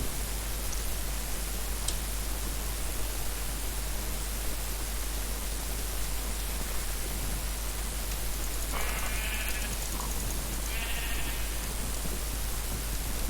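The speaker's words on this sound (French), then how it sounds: "Des moutons." Sheep in a video game bleat in two short bursts late in the clip, heard over a steady hiss of static-like background noise with no talking.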